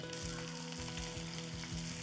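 Chopped onion fries in hot oil with spices for sundal, a dense, even sizzle close up that runs without a break and with no voices over it.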